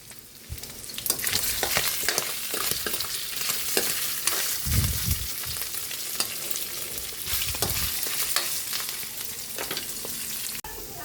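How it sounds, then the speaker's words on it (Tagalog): Vegetables, including squash, sauté with garlic in a pan under a loud, continuous sizzle, broken by occasional stirring scrapes and a few low thumps, close and without speech. "Magigisa na po tayo dito sa ating gulay, sa ating bawang."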